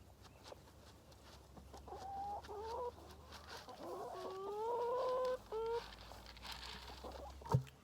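Chickens cluck and call steadily at feeding time in a farmyard, a flock close by and fairly quiet, with overlapping calls and a low background hum throughout.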